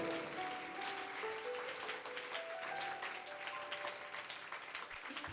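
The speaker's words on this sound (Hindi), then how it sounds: "प्रभु को ताली बजा के धन्यवाद करें" A church congregation claps to thank God during a sermon, a soft, fairly distant patter of many hands that keeps going under faint background tones.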